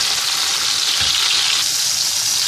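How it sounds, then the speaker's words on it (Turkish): Loud, steady sizzling and crackling of quartered tomatoes frying in a hot pan, continuous throughout with no voices. "Biraz onları da kızartacağım."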